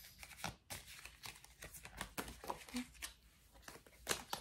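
Tarot cards riffle and slap together in quick bursts of papery shuffling, close and fairly quiet, with faint rustling between.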